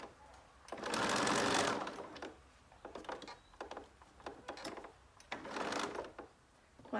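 Sewing machine stitching the seam of a zipper pouch, running in two loud sustained bursts with shorter stops and starts of the motor between them, close up.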